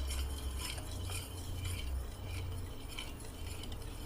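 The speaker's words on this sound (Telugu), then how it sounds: "స్లోగా వేస్తూ ఇలా మిక్స్ చేసుకోవాలి ఈ విస్కర్తో" A wire whisk stirs junnu powder into milk in a bowl, giving soft, faint, continuous scraping and light clinking strokes close by, with no talking.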